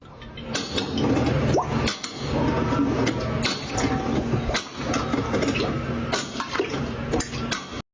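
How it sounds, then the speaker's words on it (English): Continuous loud metallic clattering and grinding with sharp knocking bursts, like a drain auger rattling and snapping inside a pipe, with running water beneath. "That sound is the auger on the snake hitting"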